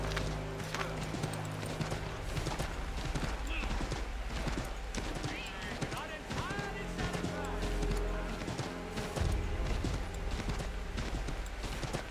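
Rapid hoofbeats of a horse running continuously in Assassin's Creed 3 Remastered beneath a busy, dense background of game ambience and music.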